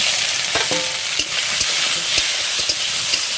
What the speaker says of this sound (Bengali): জিরাটা চিরবিরে ফুটে উঠলে ভেজে রাখা বেগুনগুলো দিয়ে দিচ্ছি